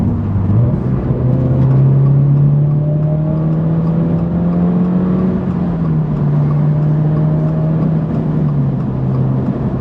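A 2022 Subaru BRZ on coilovers drops a gear and pulls hard, its engine droning loudly and steadily from inside the cabin as the pitch climbs gradually and then eases off.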